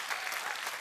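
A crowd applauds a stage welcome for Riteish Deshmukh and Akshay Kumar at a comedy show, a dense, continuous wash of clapping throughout the brief moment.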